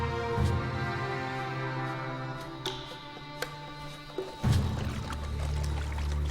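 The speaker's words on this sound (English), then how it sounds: "Finally, Shede can water the camels." Water pouring steadily from a desert well, the only one for 80 kilometers, drawn to water camels: a continuous close splashing flow with a brief heavier gush near the end, no voices.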